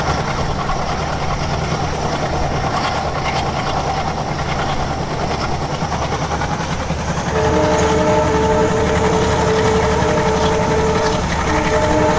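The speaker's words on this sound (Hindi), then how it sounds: "सामने से ट्रेन आ रही है।" Indian train rolling in the Train Simulator Classic game, a steady loud rumble of wheels and engine throughout, with a sustained horn-like tone sounding from about seven seconds to the end.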